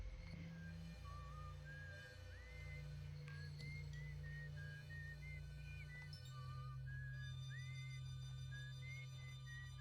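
Whistled melody in the space exploration game Outer Wilds, a thin wavering tune of short notes over a low droning background, fairly faint and steady throughout.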